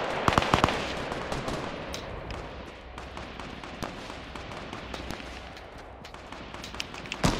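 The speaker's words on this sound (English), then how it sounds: "Someone shooting from behind us" Gunfire in a Fortnite 50 vs 50 match: dense rapid bursts of shots over continuous game noise, loudest at the start and end, with no talk.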